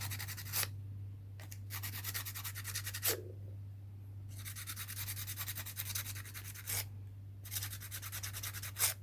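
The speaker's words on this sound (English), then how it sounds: "I'm just going to try and clean that area there with the sandpaper." Sandpaper rubs the wheels of a model locomotive in bursts of fine, quiet scratching, with short pauses between strokes over a steady low hum.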